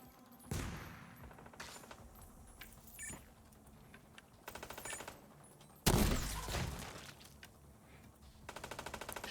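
Video game gunfire rattles out in scattered bursts and single shots, some sharp and loud, others quicker patters, with quiet gaps between volleys.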